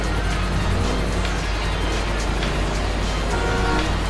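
Cars in a GTA V race, with engines roaring continuously and dense rushing road noise as one vehicle overtakes another, loud and sustained without talk.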